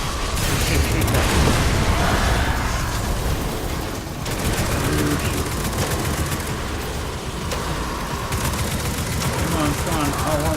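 Dense, continuous gunfire and booming blasts from a Destiny 2 firefight, loud and sustained throughout, with someone talking over the shooting.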